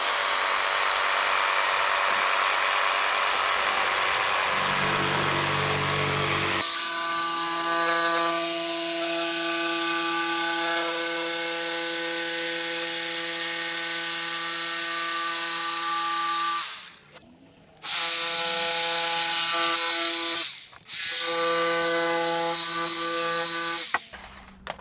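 A battery-powered cutting tool running off a power bank saws through a hard plastic bump stop for a Nissan Xterra, giving a loud, steady high whine with sustained harmonic tones, briefly cutting out twice near the end before resuming, with no talking.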